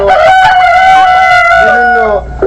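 A tiger chicken rooster crowing loudly and up close on a poultry farm, one long drawn-out call trailing off into a brief cluck.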